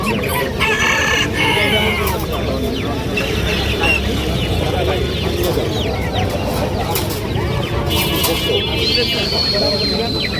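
Fighter roosters crow and hens cluck amid a noisy, crowded bird market in Tongi, Dhaka, with people talking throughout.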